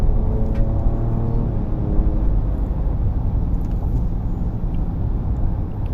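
A Ford Ranger Raptor with a 3.0L V6 cruising on a gravel road, a dense low rumble of engine and tyres on loose stones, steady and close throughout with no talk.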